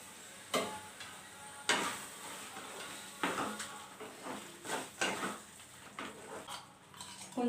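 Cashews and almonds are stirred into carrot halwa in a pot, giving sharp scraping clinks and knocks of a spoon against metal every second or so, with a faint sizzle in between.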